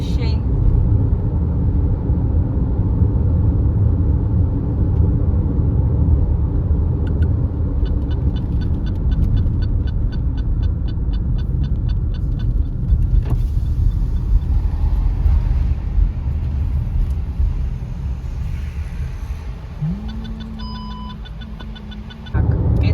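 Interior of a car driving on a highway bypass along the M4 Moscow motorway, with a steady, loud road and engine rumble throughout and brief faint electronic beeps near the end.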